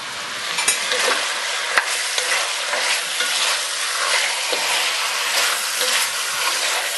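Beef browning in a pot for boeuf en daube: a loud, dense, steady sizzle up close, broken by a few sharp pops and stirring scrapes, with no talking.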